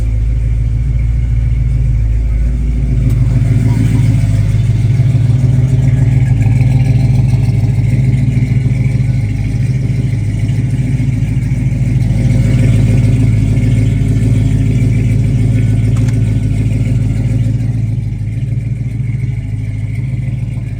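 A 1966 Chevrolet Chevelle SS V8 idling close by with a deep, steady rumble and some clatter, swelling gently in a few mild blips of throttle over about twenty seconds, loud and continuous with no talk.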